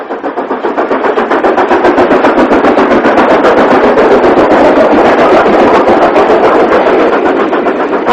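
A Stanier Class 5 steam locomotive works hard up a steep bank toward the top of a climb south of station platforms, its rapid, steady exhaust beats loud and close throughout with rhythmic rail clatter beneath.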